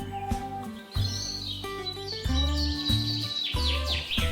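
Cartoon forest birds flying together as a flock, with bright chirps and tweets layered over a loud musical score that swells and cuts in several bursts.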